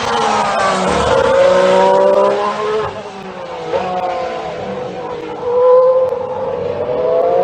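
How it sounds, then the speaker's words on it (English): Ferrari Formula 1 car at 2018 preseason testing at Barcelona, its loud high-pitched engine screaming past with a rising and falling whine, revs shifting as it passes close, with no voices. "So here comes the Ferrari."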